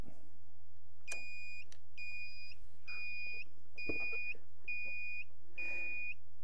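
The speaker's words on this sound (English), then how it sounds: "Okay, here comes the beep." A rocket launch warning beep: a series of about six evenly spaced, short electronic beeps over a steady low hum, with faint knocks and handling noise between them.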